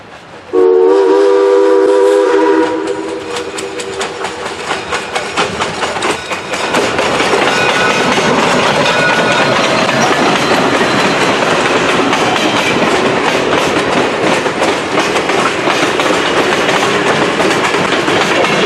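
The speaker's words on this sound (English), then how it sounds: "Once the train passed by" A train horn blasts loudly, then a heavy train rumbles past close by at the Hocking Canal Lock 19 along Haydenville Road, with steady clickety-clack of wheels on rails, continuing for a long stretch.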